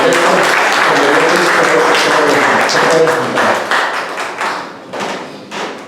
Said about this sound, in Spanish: vamos a darles un fuerte aplauso a ellos